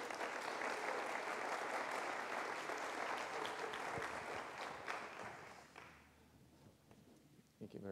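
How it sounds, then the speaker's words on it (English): Audience applause for a congressional candidate at a college candidate forum in Franklin County, steady and full for about five seconds before thinning out and fading, with a brief clap burst near the end. "You can give her a round of applause."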